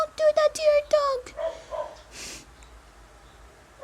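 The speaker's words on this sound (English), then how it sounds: "she just kept on barking all day" A dog barks several times in a quick, loud cluster close by, followed by a snort and quieter breathy sounds.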